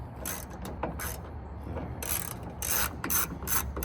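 A ratchet clicks in quick bursts while backing out the taillight bolts on a 2014 Chevrolet Silverado, close and alone, its dense metallic pawl clicks coming in several short runs.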